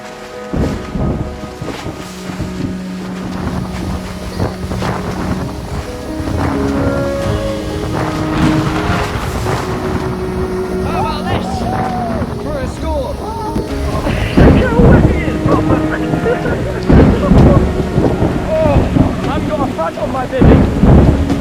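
A thunderstorm over a lake during a French carp fishing trip, with heavy rain and deep rolling thunder building steadily louder, wind and water noise beneath and no voices.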